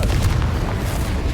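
The Confringo fire-blast spell from Hogwarts Legacy erupts in a dense, loud, low explosion, a sustained rumbling boom filling the brief moment without pause.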